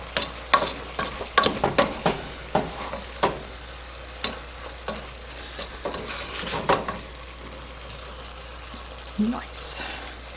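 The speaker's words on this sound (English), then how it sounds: "Stir it up." Stirring a pot of turkey and black bean summer chili with bell pepper, a series of wet scraping and sloshing strokes with a soft sizzle, fading to quieter intermittent stirs.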